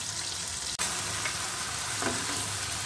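Ground onion paste sizzles steadily in hot oil in a pan, a continuous close hiss with one brief sharp dip and a faint stir or scrape near the end; no talking.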